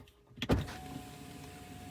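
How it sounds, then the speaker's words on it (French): A Tesla's electric window motor lowers the glass with a short click and a brief whirring hum inside the car. It is quiet and close, with no voices. "Si je baisse ma fenêtre,"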